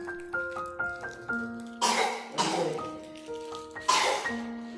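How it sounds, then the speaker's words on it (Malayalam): Repeated coughing bursts, about four harsh coughs spaced a second or two apart, heard close and loud over a faint background of tonal beeps or music. "ചുമക്കാണ് തുമ്മാണ്."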